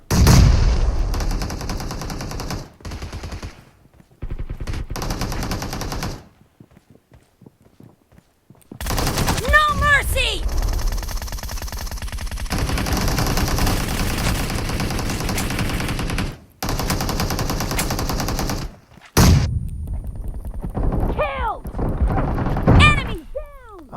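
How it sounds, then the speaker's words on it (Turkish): Rapid automatic gunfire from the battle game PUBG Mobile comes in loud bursts from several directions, broken by short pauses, with a player talking over the shooting at times. "Sağdan soldan sıkıyorlar ya."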